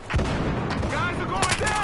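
A grenade going off in a chaotic shooter video game, a sharp blast followed by crackling bursts of gunfire-like pops over a couple of seconds, loud and close.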